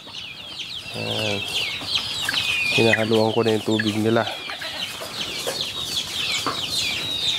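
Chickens clucking steadily on a farm while being fed melon, with a few louder bursts of fowl calls over a dense background of chirping birds; someone speaks briefly in between.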